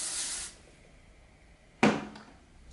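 Two short hisses of hairspray, the first lasting about half a second and the second a brief sharp burst, close and clear in a quiet room.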